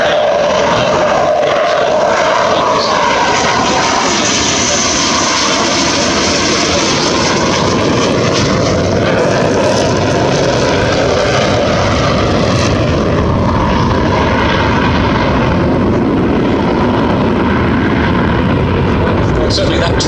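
A Sukhoi Su-27 combat jet flies a turn with its undercarriage down, a loud continuous engine roar and rushing air that holds steady throughout while someone talks over it.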